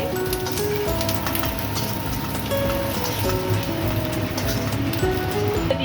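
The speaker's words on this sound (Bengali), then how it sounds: "এই তেলের মধ্যে দিয়ে ভেজে নেব" Vegetables fry in hot oil in a pan with a steady close sizzle and crackle, dense and continuous, with scattered sharper pops throughout.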